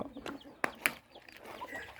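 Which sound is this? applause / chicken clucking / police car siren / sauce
chicken clucking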